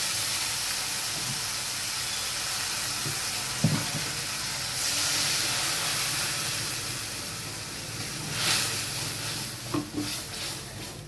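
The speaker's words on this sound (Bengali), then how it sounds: "এবার আমি দিয়ে দিচ্ছি পেস্ট করে রাখা মশলাটা।" Ground spice paste sizzling as it hits hot oil already tempered with five-spice and radhuni for a Bengali sukto: a steady, loud frying hiss with a few soft stirring knocks and surges of sizzle.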